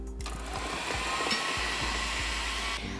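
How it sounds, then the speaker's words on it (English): Food processor whizzing cooked squash into a purée, a steady loud motor whir running almost unbroken for about three seconds before cutting off, with no voices. "the squash goes in, and you just whiz it up"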